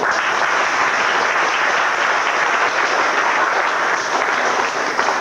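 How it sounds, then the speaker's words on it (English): A round of applause from an audience at an awards gathering, thick and even clapping from many people, loud and unbroken throughout. "How about a round of applause?"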